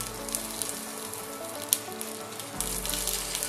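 Seafood pieces for a summer-vegetable seafood stew sear in a hot pan with a soft, continuous sizzle and an occasional sharp pop, growing louder near the end.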